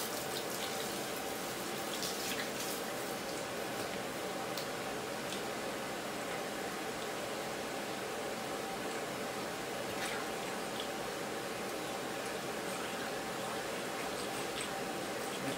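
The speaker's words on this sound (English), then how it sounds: "Turn the water on and get to rinsing." Steady broadband rush of water from a hose rinsing concrete, continuous and fairly close, spraying onto the hard surface, with faint occasional ticks.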